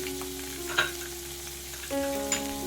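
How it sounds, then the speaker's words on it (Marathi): Crushed garlic fries in hot oil with a continuous close sizzle and soft stirring scrapes. A faint steady hum sits underneath. "आता चांगलं तेल गरम झालं की त्यामध्ये ठेचलेला लसूण घालायचा आता हा लसूण हलका सोनेरी रंग येईपर्यंत परतायचा"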